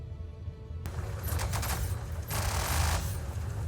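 Rapid bursts from the Manus and Omnisky ship cannons on a Drake Clipper in Star Citizen, a quick rattling volley of shots that starts abruptly, pauses briefly, then resumes loud and close.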